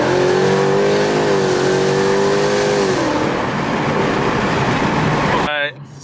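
A Ford Mustang V8 revs hard on a full-throttle pull, a loud, close engine roar climbing in pitch and then easing off before cutting out abruptly near the end.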